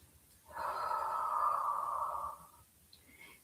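A single long, steady exhale lasting about two seconds during a stretch and tone exercise class, clear and close with a quiet room around it, no talking.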